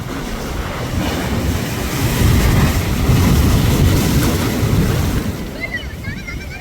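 Strong sea waves at Poompuhar crash and roar loudly in a continuous rushing surge that swells in the middle, with a little wind buffeting and some faint voices underneath.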